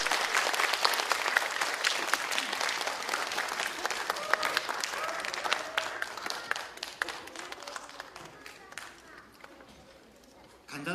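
An audience at a children's composers' concert applauds to welcome young composers onto the stage, a loud, sustained burst of many hands clapping that gradually thins and fades toward the end.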